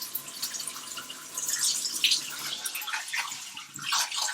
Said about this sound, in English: giving it a rinse, giving it a stir